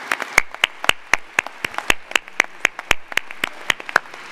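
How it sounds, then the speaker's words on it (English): Sparse audience clapping follows a commencement ceremony band at East Stroudsburg University, individual hand claps ringing out in an uneven, moderately loud rhythm. "Let's now give a round of applause for the ESU Commencement Band"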